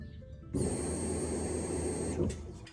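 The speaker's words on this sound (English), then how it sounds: "I can hear the pump coming on" The fuel pump of a BMW 335i tuned with a single turbo starts with the relay jumped, then runs as a steady high electric whine and hum for about two seconds before cutting off.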